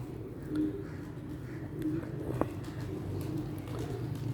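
Pet pigeons give low, soft coos against a murmuring background with a brief click partway through, the birds close but quiet.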